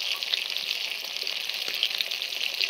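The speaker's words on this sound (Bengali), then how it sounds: "আর এই নাড়াটার সময় কিন্তু খুব হালকা হাতে মুইঠাগুলোকে ভাজতে হবে, নাহলে কিন্তু ভেঙে যেতে পারে।" Soybean dumplings sizzle in mustard oil in a pan, a continuous bright hiss dotted with small pops, close-up and steady.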